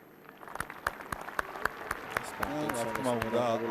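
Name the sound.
rugby fans applauding a player leaving the field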